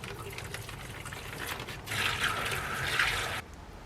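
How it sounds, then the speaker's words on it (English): Water is poured into a bag to soak seed potatoes on an allotment, a soft gurgling fill that grows louder midway and then stops abruptly, with light handling noise around it. "I've added my water and I'm now going to leave the bag to sit and soak"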